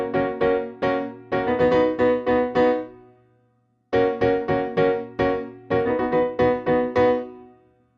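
Piano plays the intro of a song as short, sharp staccato chords in a bouncy rhythm, two phrases separated by a brief pause, close and clear with no talking.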